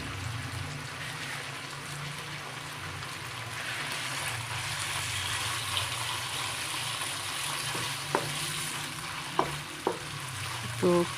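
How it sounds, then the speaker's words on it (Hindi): Small cubes of chicken fry in a pan with a steady, bright sizzle that holds throughout. A few sharp clinks of a utensil against the pan come near the end, and no one talks. "तो फ्राई करेंगे"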